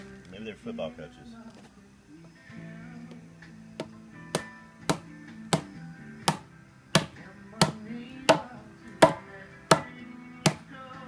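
Axe chopping wood while carving a scepter: a run of sharp, evenly spaced strikes, about a dozen, growing louder and more regular, with someone talking over the first few seconds.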